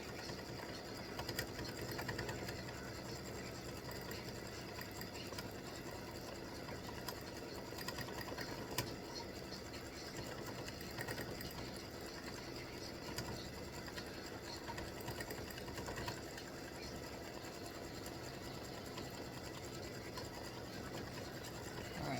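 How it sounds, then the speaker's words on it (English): An embroidery sewing machine satin-stitches a heart for free-standing lace Valentine dangling heart earrings, a steady, continuous mechanical whir and rapid needle chatter running unbroken and fairly close throughout. "So it's doing the satin stitching on the inside of the heart, and then it'll go around and do it on the outside of the heart."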